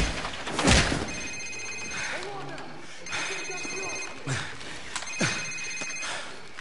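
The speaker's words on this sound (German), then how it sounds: "Sir, das ist sein Handy." A mobile phone rings in Call of Duty 4: Modern Warfare, three repeated bursts of electronic ringing amid game noise, with voices talking alongside.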